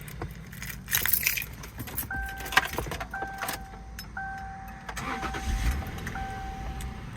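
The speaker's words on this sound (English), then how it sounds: "you can hear that H6 still fires up absolutely perfect" A 2002 Subaru Outback's 3.0 H6 flat-six engine cranks and catches, then settles into a steady idle, with keys jangling and a soft chime sounding repeatedly in the background.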